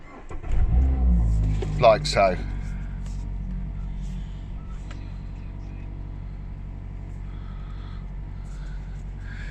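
A Mazda MX-5 RF with a 2.0 Skyactiv-G petrol engine cranks and fires up with a short rev burst, then settles into a steady low idle; someone talks briefly over the start.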